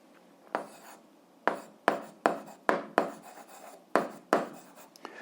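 A pen writes on paper during an eighth-grade algebra exercise, producing a series of short scratchy strokes in bursts, close and clear, with pauses between words and no speech.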